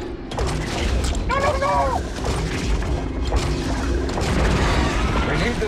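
Blaster shots and booming impacts from the Lego Star Wars: The Skywalker Saga game ring out in quick succession over game music, with a character shouting in alarm.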